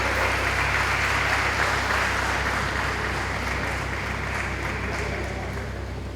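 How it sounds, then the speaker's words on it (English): A hall full of people applauds an award recipient at a university research awards ceremony, a dense, steady wash of clapping that holds for several seconds and slowly tapers. "Let's all clap for Ms. Naz Saud and her mother."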